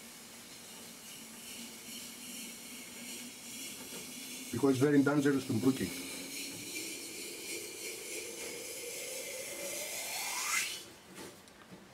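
A piece of hot raku-fired pottery is plunged into water, giving a hissing burst mixed with sizzling crackle that fades into a steady, quieter steam hiss; someone talks at the start.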